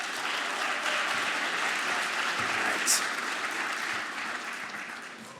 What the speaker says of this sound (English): give a nice round of applause for all of you for coming out to the show tonight.